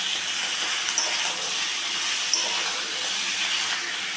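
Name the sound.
chicken meat frying with sautéed onions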